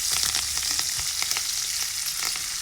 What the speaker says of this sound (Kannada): ಇವಾಗ ನಾನು ಕರಿಬೇವು ಹಾಕೊಳ್ತಾ ಇದ್ದೀನಿ ನೋಡಿ